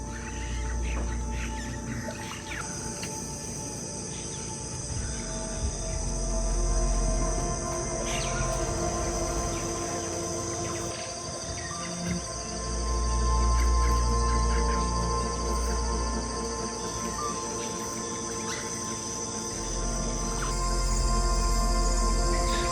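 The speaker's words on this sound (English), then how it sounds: "And are you hearing the sounds of these birds?" Several birds call and chirp continuously in the Amazon rainforest of Ecuador, a busy layered chorus of tweets and trills at moderate distance with steady insect-like background hum and no talking.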